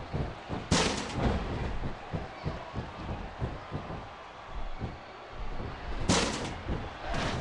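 Fireworks bursting at a wrestling video game event, with two loud broad blasts near the start and end amid a rapid, rhythmic series of booming thumps and crackles.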